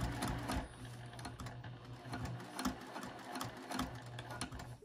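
A sewing machine stitches in the ditch along the seam of a small zipper pouch, a soft, steady, close mechanical hum and rattle that runs continuously and fairly quietly throughout.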